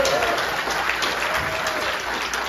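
Applause from an outdoor jazz concert audience for a band member, a steady, moderately distant patter of clapping with some voices mixed in.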